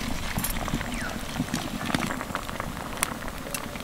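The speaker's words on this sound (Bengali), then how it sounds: "বাঁধাকপির টুকরোগুলোকে দিয়ে প্রায় 3 থেকে 4 মিনিট মতো ফুটিয়ে নিয়েছি" Cabbage pieces simmer in gravy, a steady bubbling and popping with irregular small bursts, close and fairly quiet.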